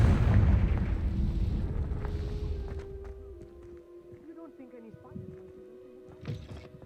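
The Confringo blasting curse in Hogwarts Legacy sets off a loud, booming low rumble at the start that slowly decays into a fading tail, followed by quieter game effects and a small burst near the end.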